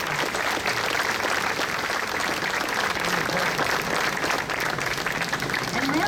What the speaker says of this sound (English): So let's give the veterans in the audience a huge round of